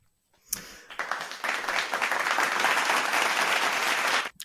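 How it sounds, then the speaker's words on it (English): Canned applause from a studio applause button bursts in abruptly and holds as a steady, dense crowd-clapping roar for about four seconds, then cuts off sharply. "I wouldn't have hit the applause button at that."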